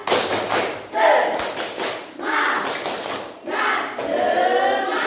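A classroom of students claps out a rhythmic cheer chant in several bursts of patterned claps and thumps, loud and close, with voices mixed in.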